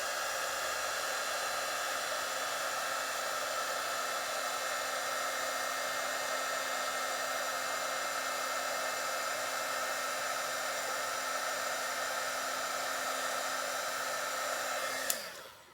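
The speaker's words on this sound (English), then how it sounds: "And bring in my heat tool." A handheld heat tool blows steadily and loudly while melting embossing powder on a stamped floral card, a continuous airy roar with a faint whine that runs unbroken for about fifteen seconds and then cuts off.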